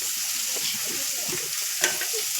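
Chopped onion sautés in hot oil for a wild leafy-vegetable dish, a steady close sizzle with soft stirring scrapes and one brief sharper clink near the end.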